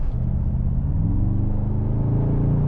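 A Mercedes AMG GT 63 S E Performance hybrid accelerates under throttle, its engine a deep, rising rumble heard from inside the cabin, loud and steady with the pitch climbing over a few seconds.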